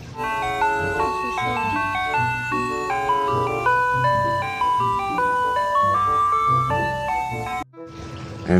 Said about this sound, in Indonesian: ada mobil es krim teman-teman.